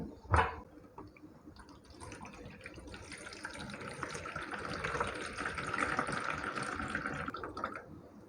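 Water being poured off soaked grains for idli batter in a home kitchen, a steady trickling and splashing stream that builds gradually after a brief clunk at the start, fairly faint and close.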